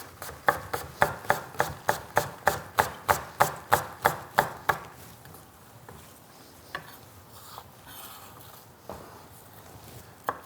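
A knife slices through plump fresh radishes on a cutting board, cutting them down the middle, into quarters and then into slices: about fourteen quick, even, close chops, followed by quieter handling sounds.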